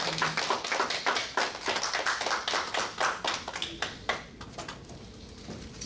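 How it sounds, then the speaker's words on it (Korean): Church congregation at a Korean holiness church service clapping to welcome a deaconess, a dense patter of many hands that loosens and thins toward the end, fairly close and without talk. "우리 박수로 우리 집사님 환영해 주시기 바랍니다."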